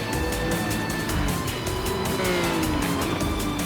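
A Dino race car in a Challenge Series race roars loudly at full throttle, a dense, sustained engine howl with shifting pitch and other racing cars close by, no talk.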